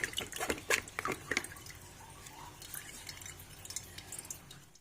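Irregular drips and small splashes of water patter close by as water drains from soaked potatoes, tamarind and prunes through a strainer, a few sharper drops early on, then quieter trickling.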